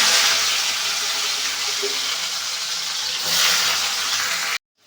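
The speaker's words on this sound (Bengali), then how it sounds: "এইবারে উচ্ছেগুলোকে আলাদা করে ভেজে নেব" Bitter gourd pieces fry in hot oil for vegetable shukto, giving a steady, fairly loud broadband sizzle that holds evenly for several seconds, swells briefly near the end, then cuts off abruptly.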